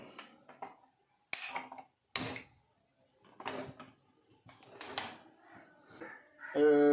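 Someone covers a pot of beef curry and lights the stove in a home kitchen: a few quiet, separate metallic clinks and lid clatters with pauses between them, followed by a brighter ringing sound at the end.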